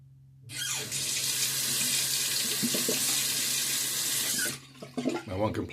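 Cold water runs steadily from a tap into a sink while shaving soap is lathered, a loud, continuous rushing splash lasting about four seconds before shutting off into quieter handling sounds.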